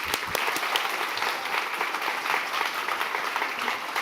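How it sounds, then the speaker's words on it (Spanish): Audience applause after a technical talk on seismic protection dissipators at a university, a dense, even burst of clapping from a seated crowd. "un fuerte aplauso nuevamente para el doctor, por favor"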